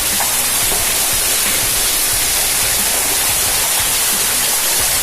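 Inside the Linn Caves in Scotland, a waterfall pours with a constant, loud hiss and rumble of crashing water, close and unbroken for the whole stretch, with no voices.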